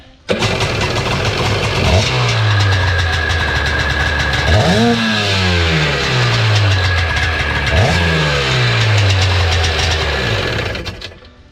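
A mid-1990s Sea-Doo XP personal watercraft engine is cranked and revved three times, each rev rising then falling, over a loud, steady mechanical roar.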